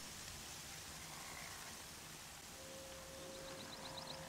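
Steady rain hissing across an outdoor scene in the video game Horizon Zero Dawn, a broad, even wash of falling water, with a faint thin tone and small chirps surfacing near the end.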